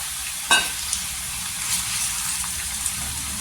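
Two large chopped tomatoes drop into hot oil with softened onion and curry leaves, setting off a loud burst of sizzling, then a steady crackling fry with faint stirring clicks, no voices.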